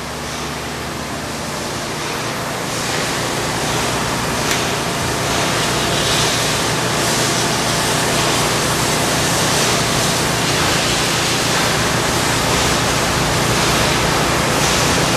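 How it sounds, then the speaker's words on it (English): A Waukesha Model 130 positive displacement pump on three-phase power recirculates water with a loud, continuous rushing hiss over a low mechanical hum, steady throughout. "Today we're cycling your Waukesha 130 pump."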